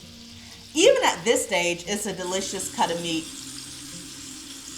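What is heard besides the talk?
lamb chops sizzling in cast iron skillet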